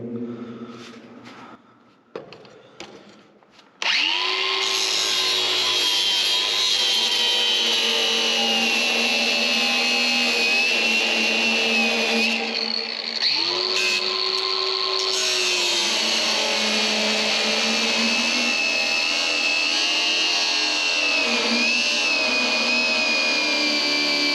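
A cordless cutoff tool with a worn cutting wheel grinds through the metal spout of a 72-foot farm silo, a loud, steady high-pitched whine that runs almost without a break after a few short starts, with brief dips in pitch.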